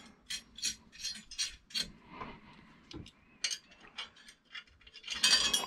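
A bolt with washers is tightened on a DIY electric boat motor, making a run of small close ratcheting clicks and metallic ticks in irregular bursts, fairly quiet and with no talking.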